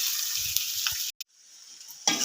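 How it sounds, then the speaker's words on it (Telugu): Bitter gourd (kakarakaya) sizzles steadily as it fries in a pan, a continuous hiss with a couple of brief stirring knocks and a short break before the frying resumes loud and close. "ఇప్పుడు కాకరకాయ వేసుకొని ఫ్రై చేసుకుందాము."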